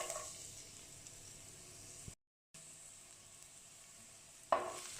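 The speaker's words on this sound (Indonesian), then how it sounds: "Saya beri minyak sedikit untuk menumis bawang putihnya." Garlic sautés in a little oil in a hot frying pan, a faint steady hiss with a brief silent gap midway and a louder sizzling flare near the end, with no talk.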